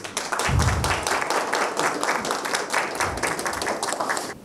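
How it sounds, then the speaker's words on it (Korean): At a CES 2024 conference, an audience claps to welcome a speaker to the stage; fairly close, crisp clapping holds steady throughout. "큰 박수로 맞이해 주시기 바랍니다"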